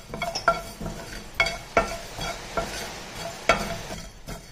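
Fenugreek, mustard seeds and cumin frying in a heated pan, with a soft sizzle under repeated sharp spoon taps and scrapes against the metal, close and fairly quiet, with no one talking.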